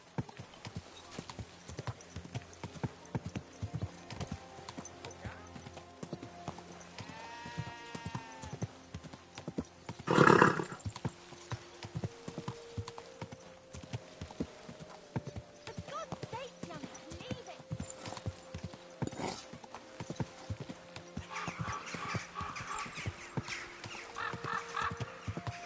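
Steady clip-clop of a horse's hooves in Kingdom Come Deliverance 2, with a short whinny partway through, heard under quiet game ambience and occasional voices.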